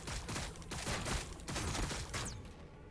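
Rapid gunfire from troops shooting down gargoyles in the Warhammer 40k: Battlesector strategy game, a dense continuous barrage of shots and impacts with no voices.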